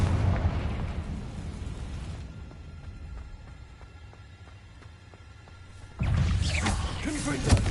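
Confringo fire spell explosions burst in a Hogwarts game, a loud fiery blast fading into a quieter crackling stretch, then a second strong explosion erupts near the end.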